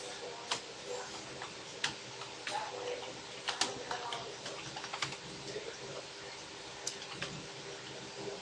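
Quiet, irregular keystrokes tap on a computer keyboard while an SQL insert statement is typed, scattered clicks spread across a soft background hum.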